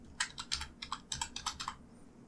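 Keys clatter on a computer keyboard as a short word is typed, about a dozen quick close clicks in an uneven burst lasting under two seconds, with no speech.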